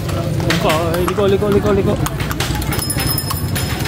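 Horse hooves clip-clop on pavement in Vigan, with many horse-drawn carriages around. The steady rhythmic hoofbeats run throughout beneath loud nearby chatter, and one voice calls out briefly.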